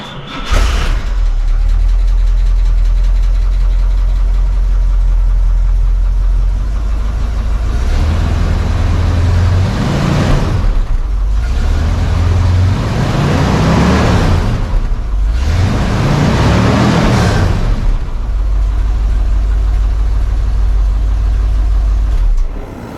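A 1967 Rolls Royce classic car engine hums low and steady on a test drive, rising in a few swells of acceleration that build and fall back to a smooth, loud cruising drone.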